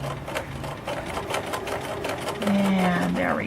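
A sewing machine runs steadily, stitching a curved seam in fabric, its close mechanical whir continuing under a person speaking.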